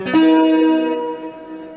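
A single Kramer Pacer Classic electric guitar chord struck loudly, ringing out and fading slowly in a roomy reverb tail.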